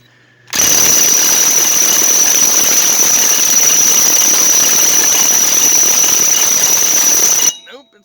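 Craftsman power tool, likely an impact wrench, hammering at a seized hub bearing nut on a 2000 Ram 1500, one loud continuous rattling burst of about seven seconds with a high whine, starting and stopping abruptly.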